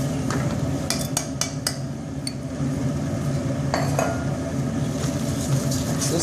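Rice for jambalaya is stirred in a pot, with a steady rumble of scraping and a series of sharp metallic clinks and taps from the utensil against the pot, close and clear.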